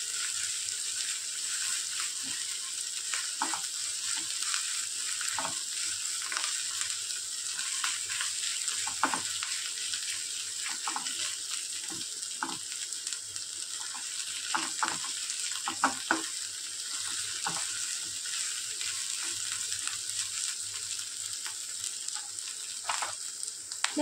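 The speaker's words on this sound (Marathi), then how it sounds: "म्हणजे तोही छान परतला जाईल, कच्चेपणा नाही राहणार मिरचीला." Crushed green chilli, garlic and ginger sautéing in a pan with spiny gourd, a continuous moderate sizzle under frequent sharp spoon scrapes and taps spread across the stretch, with no one speaking.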